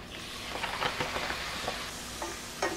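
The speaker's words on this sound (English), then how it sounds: "Stir them until they're soft." Tomatoes sizzle in hot oil in a pan for a black-eyed pea curry while a utensil stirs them, with steady frying crackle and a few scraping strokes close by.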